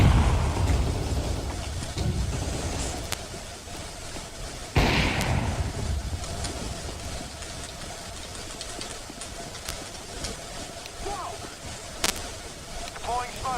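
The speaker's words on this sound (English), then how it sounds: "Throwing flashbang." A flashbang thrown in a video game goes off as a sudden harsh broadband burst partway through, over continuous game noise and rumbling effects, with a voice talking at times.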